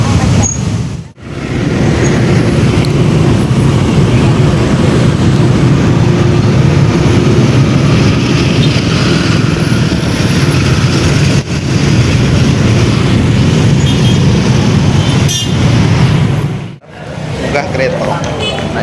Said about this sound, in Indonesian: Saya pertama kali juga naik kereta.